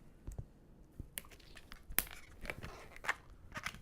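A twisting balloon ripped off by hand, heard as a few soft snaps, crinkles and small tearing sounds, close but faint, with no speech.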